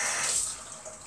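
Hot water runs steadily from a kitchen tap into a sink, a close, loud continuous hiss and splash with no talking.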